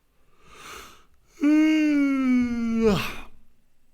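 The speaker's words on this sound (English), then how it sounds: "A little bit of a yawn there." A man lets out a long voiced yawn, a rising breath then a sustained tonal groan that falls away into an exhale, close and fairly loud with no talk over it.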